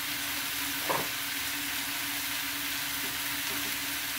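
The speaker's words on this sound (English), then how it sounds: "So I'm gonna brown it. Stirring it until getting brown." Food browns in a frying pan, a steady close sizzle with a brief scrape of stirring near the start, and no talking.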